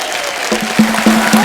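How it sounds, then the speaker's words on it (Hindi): A studio audience at a Kapil Sharma Show taping breaks into applause, a brief burst of dense clapping with music underneath, close and fairly loud. "जोरदार तालियां हो जाए मंदाकिनी जी के लिए मैम"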